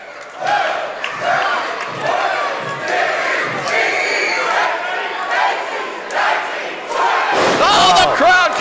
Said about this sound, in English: Oh, the crowd counting along